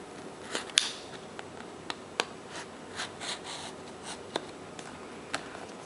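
A Samsung Galaxy SIII phone is unboxed in a series of close, quiet scrapes, rubs and clicks of packaging being opened and handled, scattered irregularly with no voices.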